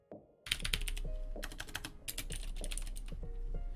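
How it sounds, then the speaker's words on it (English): Someone types on a Vortex Pok3r mechanical keyboard with clicky blue switches, giving quick, close, sharp clicks in uneven bursts over a faint low hum. "Oh man, it's gonna be clicky as a motherfucker,"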